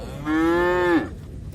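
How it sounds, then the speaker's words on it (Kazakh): Young bull calf at a livestock market lowing once, a single clear drawn-out moo lasting under a second, close and fairly loud against quiet background noise. "Жем жеп тұрған тана. Еркек тана екен."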